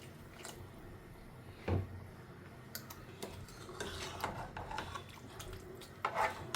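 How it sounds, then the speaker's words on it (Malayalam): Thick first-press coconut milk pours into a simmering mixed vegetable kurma, a soft liquid splash and stir broken by a few sharp clinks of a spoon against the pot, with no talking. "നമുക്ക് തേങ്ങാപ്പാൽ ഒഴിച്ചു കൊടുക്കാം"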